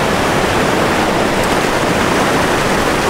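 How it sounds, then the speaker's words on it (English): River water at Millstream Gardens rushes steadily in a loud, dense broadband roar that stays constant and close throughout, running high after spring flow. "River is running pretty good"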